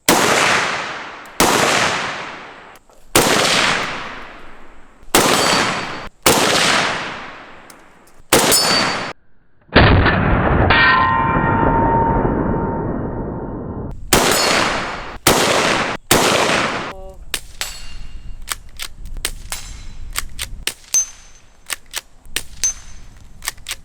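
Rifle shots from a Howa semi-automatic rifle ring out outdoors, several loud sharp reports spaced a second or two apart, then a lower rumbling stretch, then more shots and a quicker run of fainter cracks.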